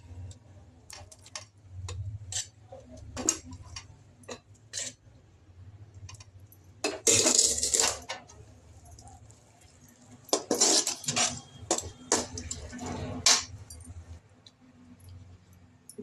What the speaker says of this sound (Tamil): இப்போ இதில் சாதத்தை போட்டு கிளறுவோம்